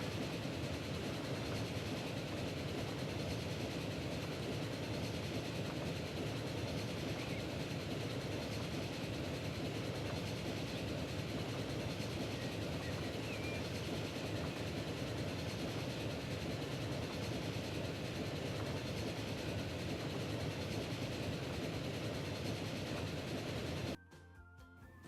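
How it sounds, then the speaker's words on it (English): An express train in the Transport Fever game rolls past with a steady, loud rumble and rail clatter lasting nearly the whole stretch, alone without talk, cutting off abruptly at the very end. "There's another express train."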